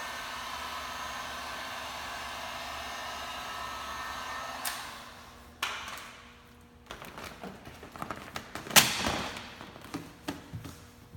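Heat gun warming 3M 180 vinyl wrap on a Shelby Rustang, a steady blowing hum for several seconds that then stops, followed by scattered thumps and handling taps.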